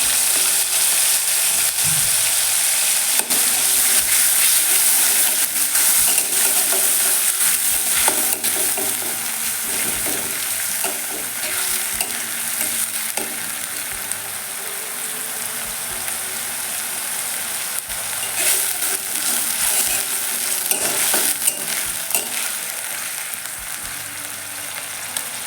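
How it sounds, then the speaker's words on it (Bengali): Onion paste frying in oil in a wok, sizzling steadily and loudly throughout while a utensil scrapes and stirs it in irregular strokes, with no talking. "এবার সব কিছু ভালো করে নেড়ে চেড়ে ব্রাউন কালার করে ভেজে নেব"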